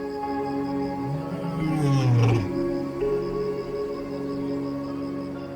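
A lion in the African wild gives a deep, rising roar that swells over about a second and a half, loud and close against a steady background with faint harmonic tones.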